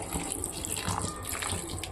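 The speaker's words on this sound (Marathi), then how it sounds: "मी इथं थोडंसंच पाणी टाकलं आहे" Water poured into a hotel-style capsicum (bell pepper) gravy cooking in a pan: a steady, close rushing gush that runs unbroken for about two seconds, with no voices.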